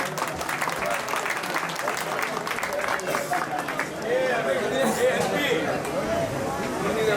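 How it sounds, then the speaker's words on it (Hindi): Loud, sustained applause from a crowd at a 25th anniversary celebration of a Jain temple, dense clapping running steadily through the whole stretch with some crowd chatter mixed in. "एक बार जोरदार तालियां हो जाए"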